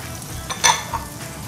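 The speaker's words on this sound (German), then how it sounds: "jetzt kommen die Zwiebeln mit rein" Onions and tomatoes hit a hot pan of veal for an Italian-style sliced veal dish, giving a sharp sizzling burst that settles into a softer steady fry with light stirring noise.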